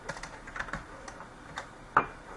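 Code is typed on a computer keyboard as a run of light, irregular key clicks with one sharper keystroke near the end, close and fairly quiet.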